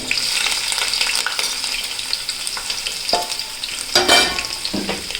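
Garlic and ginger frying with popped mustard seeds for rambutan pickle, a loud, close sizzle with crackles and bursts of stirring scrapes near the end.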